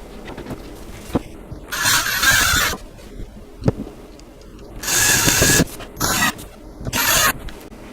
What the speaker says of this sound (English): for this demonstration, I am going to be using a drill